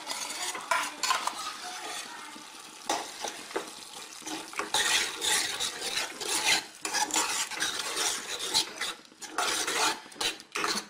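Cooked sorrel leaves go into a simmering small-prawn curry and are stirred in. A spoon scrapes and clinks steadily against the pot over a soft background sizzle, close and fairly busy throughout.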